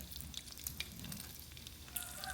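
Fish frying in oil over low heat in a pan, a quiet steady sizzle with faint crackles and pops throughout, no voices.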